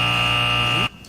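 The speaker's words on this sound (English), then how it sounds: "thought we were done with the buzzer." A loud, harsh buzzer sound effect drones steadily and then cuts off abruptly, leaving near silence.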